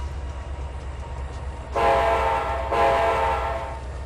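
A passenger train rolls past in the Trainz 2022 railway simulator, a low rumble building into a loud sustained two-tone horn blast, then a second blast, with no talk over it.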